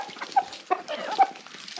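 Ducks give a few short, nasal calls close by, with three sharper calls standing out over a quiet background and no talking.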